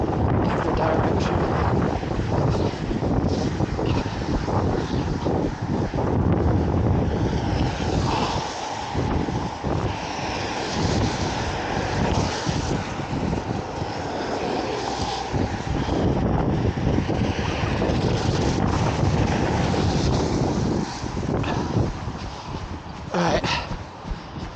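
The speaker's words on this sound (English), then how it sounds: "Gosh, with this wind." Strong outdoor wind roars and buffets the microphone continuously on a dark, cold, wet run, a loud rushing wash that never lets up.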